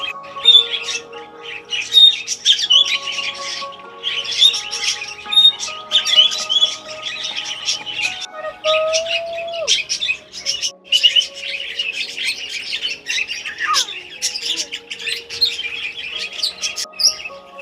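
A lively mix of birds in a kids' zoo aviary in Eilenburg, Germany, squawks and chirps nearby without a break, with sharp calls and rapid tweets overlapping over a bright, busy chorus.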